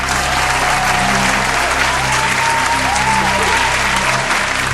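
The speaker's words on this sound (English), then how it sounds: "Everyone in the studio, give me a thunder applause." Thunderous studio audience applause roars continuously and loudly throughout, a dense, even wash of clapping with faint crowd murmur beneath.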